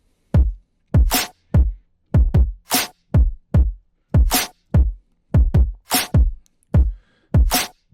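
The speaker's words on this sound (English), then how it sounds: "the kick and snare sound something like this" A punchy kick drum and a sharp snare alternate in a steady beat, loud and dry, with no other sounds.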